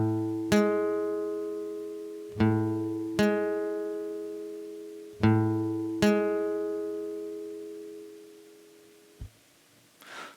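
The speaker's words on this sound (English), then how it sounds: "A major 7th sounds like this." A major 7th chord is strummed on a guitar five times in pairs, each chord ringing and decaying slowly before a final muted stop and a small handling sound, with no speech.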